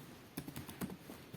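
Several quick keystrokes clack on a computer keyboard, close and fairly faint, landing in a short irregular burst over quiet room background.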